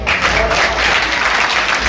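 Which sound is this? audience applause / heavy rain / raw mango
audience applause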